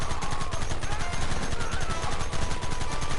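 Rapid, continuous gunfire from a shootout in a video game, dense overlapping shots with a steady crackling rhythm, loud and close, with no voices.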